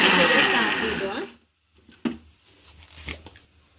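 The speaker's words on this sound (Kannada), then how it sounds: "ಈ ಥರ ಆಗಿದೆ ಮಾವಿನಕಾಯಿ ಮಿಕ್ಸಿ ಮಾಡಿದ್ದು." A mixer grinder whirs loudly, grinding grated raw mango, then winds down and stops; a few soft knocks and a voice talking follow.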